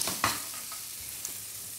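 Penne carbonara ingredients frying crisp in a pan, a steady bright sizzle with a few sharper crackles and stirring clicks, close and alone without talk.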